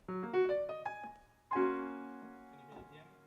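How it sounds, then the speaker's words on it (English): Piano notes played alone, a short phrase of struck chords and single notes that ring and fade, then a fuller chord rings out. "Can you hear the piano?"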